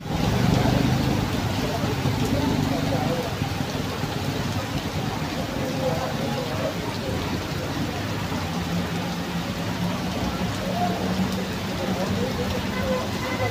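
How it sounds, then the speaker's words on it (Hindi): Steady monsoon rain pours down outdoors, a dense continuous hiss that stays even throughout, with a faint low rumble of passing traffic underneath. "चेक कर सकते हैं जी बारिश कितनी हो चुकी है"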